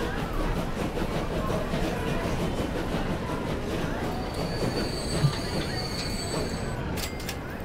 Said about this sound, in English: wonderful, a new shiny train.